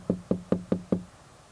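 Five evenly spaced knocks on a door, close and fairly loud with a dull, hollow thud, then silence.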